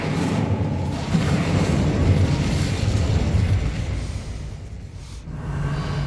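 The Incendio fire spell cast in Hogwarts Legacy gives a sustained roaring, crackling blast of flame with a deep booming body that fades slightly toward the end.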